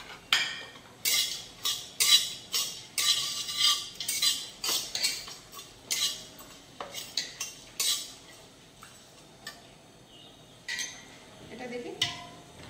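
Whole cumin, cinnamon, cardamom, black peppercorns, two dried red chillies and a little mace are lightly fried and stirred in a pan for Kashmiri pulao, giving a steady rhythm of close metal clinks and scrapes while someone talks.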